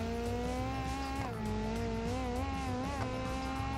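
A car accelerating in BeamNG.drive, its engine whining at steady high revs with pitch dips and climbs as it runs, loud and continuous with no talk over it.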